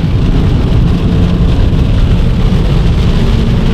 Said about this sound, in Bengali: বলতে না বলতে কিন্তু বৃষ্টি শুরু হয়ে গেছে আমার